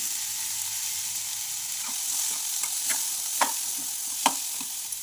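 Ivy gourd and chana dal stirred in a frying pan, a steady faint sizzle with a few sharp spoon scrapes and clicks near the end, no voices.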